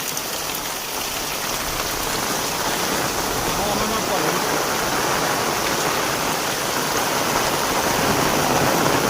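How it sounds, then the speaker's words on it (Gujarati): Heavy monsoon rain pours down steadily in North Gujarat, a dense, constant hiss of water drumming on surfaces that stays loud and unbroken throughout, with no pauses. "હેવી રેન વરસાદ ચાલુ, હેવી."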